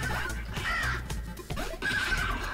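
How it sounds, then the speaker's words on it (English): Crows caw in a Witcher-themed arcade game inside Cyberpunk 2077, two harsh, drawn-out calls ringing over a steady rumble of game music and engine noise. "Yennefer's crows."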